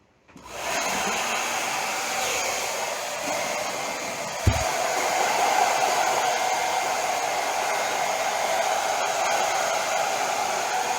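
A heat gun on low blows a loud, steady rush of hot air onto an Arrma Infraction RC car body, switching on abruptly and continuing with a constant whooshing roar, a small click midway.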